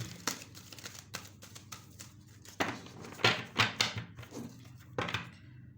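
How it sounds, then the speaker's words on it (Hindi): A deck of tarot cards is shuffled close by, producing repeated soft riffling and papery slaps in uneven bursts against a quiet room. "अब ये 3 कार्ड्स तो आ गए हैं, मैं फिर भी शफल करती हूँ।"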